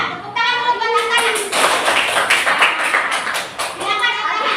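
A class of children clapping for a student during a lesson, a burst of quick claps starting about a second in and running to the end, close by, with a teacher's voice over it at the start and finish.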